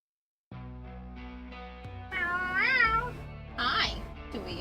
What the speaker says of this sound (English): I mean, that's a cat.